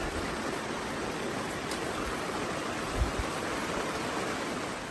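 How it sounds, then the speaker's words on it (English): Steady, dense rain hiss pours down without a break outside a hunting blind, a broad wash of patter with a couple of soft low thumps partway through. "it's still raining a lot"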